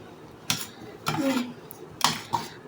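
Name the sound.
stirring khichuri in a pot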